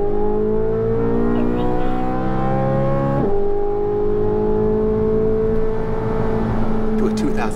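A 2023 Corvette Z06's high-revving engine winds up with a loud, rising whine, shifts briefly around midway, then climbs again in a smooth, sustained howl, close and dominant.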